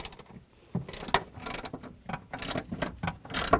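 A 15mm socket ratchet works a nut loose on a Chrysler 200 during rear spring replacement, giving short bursts of clicking and metallic scraping at close range, irregular and alone.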